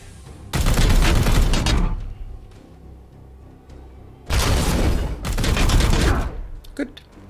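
Two loud bursts of gunfire from a unit in Warhammer 40K: Chaos Gate – Daemonhunters, each a dense rattling volley of about a second, separated by a quieter pause, with a few faint clicks at the close.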